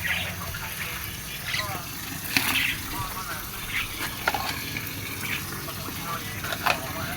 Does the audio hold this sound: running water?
yes